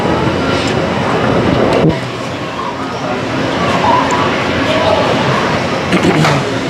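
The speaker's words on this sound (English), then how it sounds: "ooh, monorail time" A Disneyland monorail train rolls past with a loud, steady rumble and rail clatter, heard close and continuous amid theme park background noise.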